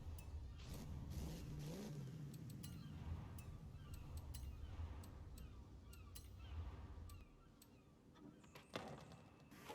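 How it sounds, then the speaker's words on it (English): Supercharged Dodge Charger in Forza Horizon 5 revving steadily with a low engine drone and supercharger whine, fairly faint and continuous, easing off near the end. "That's a good sounding supercharger too."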